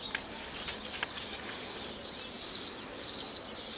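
Seagulls in Spain call outdoors with high, thin, repeated cries that come in short bursts, moderately loud over a hushed background.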